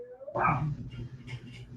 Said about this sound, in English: I apologize about my dogs. I don't know what the hell's going on behind